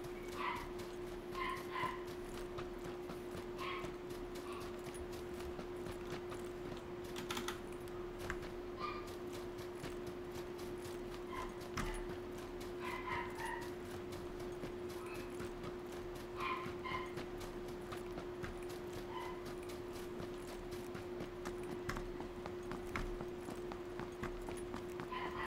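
A puppy barks and yips in scattered bursts across the clip, at moderate distance, over a steady electrical hum and background noise.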